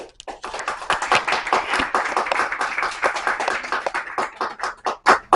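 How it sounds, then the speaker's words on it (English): Audience at a graduation ceremony for an aging-careers internship, standing and clapping in a loud, sustained round of applause with uneven individual claps and no speech over it. "Why don't you all stand and get another round of applause?"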